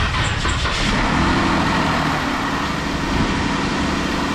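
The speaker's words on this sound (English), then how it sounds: "I'm just gonna get in the car and turn the keys and turn it on" A car engine started with help from a battery jump pack turns over and settles into a steady, close idle rumble, with no talking.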